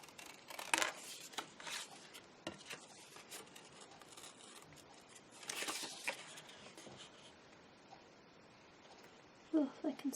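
Scissors cut through file folder card in a few crisp snipping strokes, close and fairly quiet, with soft paper rustling and pauses between cuts.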